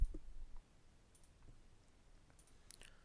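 Mouse clicks while wiring a boost converter circuit in LTSpice, a few faint, sparse clicks spread across a quiet stretch after a brief low thump at the start.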